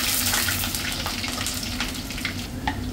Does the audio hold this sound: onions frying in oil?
yes